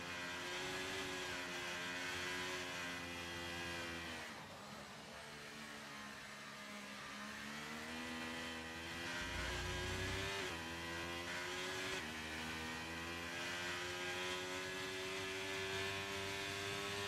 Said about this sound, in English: Heating up those tires, heating up the engine, looking the revs, all those things in prep for that one hot lap